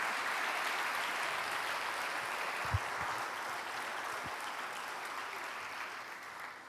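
A church congregation claps together in a sustained, even wash of applause that holds steady at moderate volume and fades slightly toward the end, with a couple of brief thumps.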